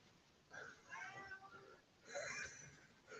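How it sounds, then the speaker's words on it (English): A house cat meows insistently several times, loud and close, in two clear bursts of plaintive calls with short pauses between them. "The cat is kicking off."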